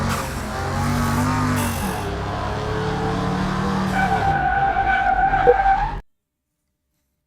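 Car tires skidding under locked brakes in Car Mechanic Simulator during an acceleration and braking test with a suspected ABS fault: a loud, continuous tire screech over engine noise for several seconds, then abrupt silence.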